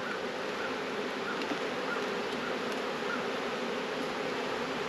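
Honey bees swarm around an open farm hive, a loud, continuous, dense buzzing close by that never lets up, with no voices over it.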